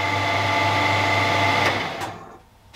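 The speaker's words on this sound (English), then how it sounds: "I'm really happy at the minute how that lathe sounds" A serviced Harrison M300 lathe hums with a steady motor whine and runs smoothly nearby, then winds down and fades out with a couple of faint clicks at the end.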